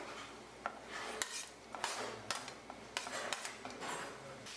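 Chopped onions stirred in a pan while making beef curry, a utensil scraping and clinking against the pan in an uneven series of close, moderately quiet strokes over a low sizzle.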